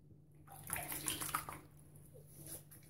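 Running tap water splashes steadily as a vintage Haddon straight razor is rinsed after a shave pass, a close, continuous gush with no voices.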